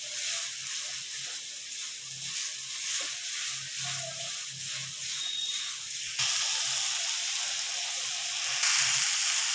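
Green chilli paste and spices sizzling in hot oil in a pan for Bengali prawn malai curry, a steady close frying hiss that grows louder and brighter partway through, with faint clinks of a spoon.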